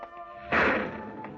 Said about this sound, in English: And the sound you hear is the far-off thunder made of heat and air currents and stratosphere.